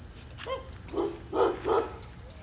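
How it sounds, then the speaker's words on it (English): Dogs bark a few times in a garden, moderately distant, three or four separate barks against a steady insect hum. "Excuse the dogs, they are always barking."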